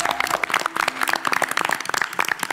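Studio audience clapping during a televised national knowledge quiz competition, a steady burst of crisp, close claps with some voices faintly underneath.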